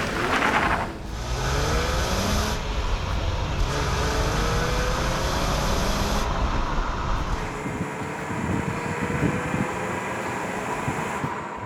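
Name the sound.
Jeep Wrangler stick-shift driving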